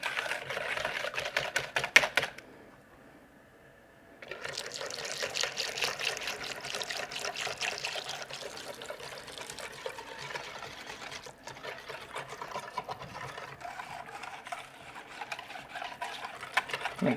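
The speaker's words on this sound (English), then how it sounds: "I'm going to give it a little stir before I add the milk." A whisk beats an egg and milk mixture for French toast in quick rhythmic clicking strokes, fairly faint, pausing briefly near the start before resuming steadily.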